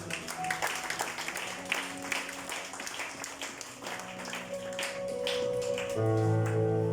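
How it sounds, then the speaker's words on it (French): A church congregation applauds and claps for Jesus, a dense, steady wash of clapping that builds toward the end, with organ or keyboard tones entering and sustaining beneath it. "Acclamons encore pour Jésus"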